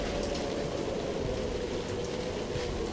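Steady rain in a video game, a constant dense hiss with a band of mid-range patter, even and unbroken throughout with no voices.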